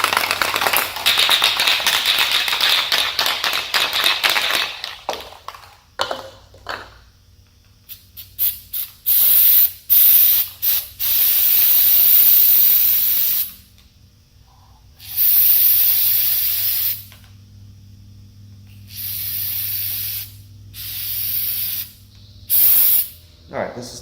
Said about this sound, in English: So what I'm going to do is take some of this 3M adhesive, just